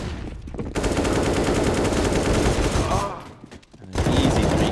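Rapid automatic gunfire sprays in a CS:GO esports match, loud and sustained, breaking off briefly before resuming, with a caster's voice heard underneath.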